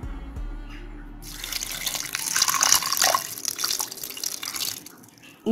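Water pours from a tap into a pressure cooker holding meat with turmeric, chili powder and salt, a splashing, gurgling stream that starts after a moment and runs for several seconds before cutting off.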